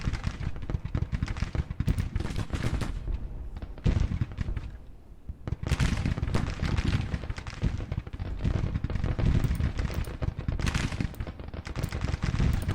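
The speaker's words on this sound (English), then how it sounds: "we did find a good spot for our 12-pounders to start firing" 12-pounder cannons in Grand Tactician: The Civil War fire in dense, repeated booming volleys with crackling gunfire, loud and nearly continuous apart from a short lull.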